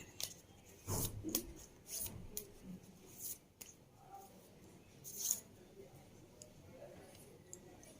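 Tarot cards are drawn and handled at close range: soft sliding, rubbing and light clicking bursts of card stock, scattered and irregular, with a voice talking quietly in between.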